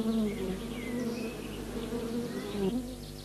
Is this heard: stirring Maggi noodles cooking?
no